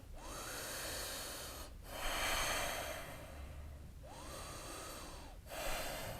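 Deep, slow breathing during a yoga stretch, in a side-bend and inner-thigh flow: two long breath cycles, each a broad airy inhale and exhale with brief pauses between, fairly close and soft, with no talking.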